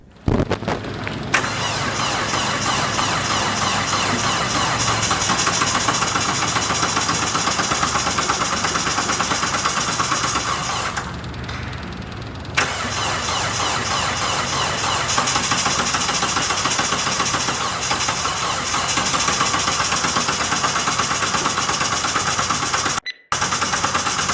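A Kubota compact tractor's small diesel engine cold-starts at -30 Celsius, cranking, catching and settling into a loud, steady clattering idle, with a brief dip partway through before running on.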